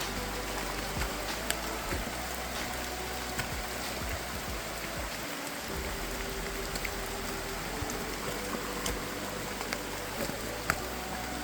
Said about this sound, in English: Oh, the rain is just fucking falling here.